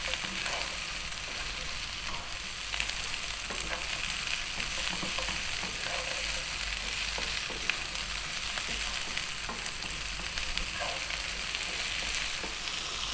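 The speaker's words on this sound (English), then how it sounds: "just go for about 3 minutes or so, stir frying this around in the pan." Potatoes, okra and eggs sizzle and crackle steadily in a hot pan while being stir-fried, with occasional scraping and stirring noises throughout.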